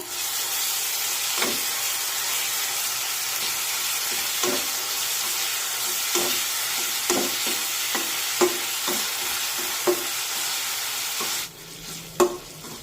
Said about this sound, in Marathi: हे जे खोबऱ्याचं वाटण तयार करून घेतलेलं आहे ना, ते यामध्ये टाकूया। परतून घेऊया।